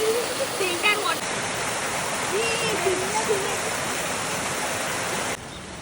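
A waterfall beside a Shiva temple rushes in a constant, dense roar, with voices talking faintly over the flowing water for most of the stretch.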